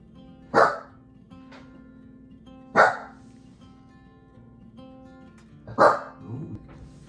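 A house dog named Hugo lets out three loud, separate barks a couple of seconds apart, each sharp and close, with a quiet room between them.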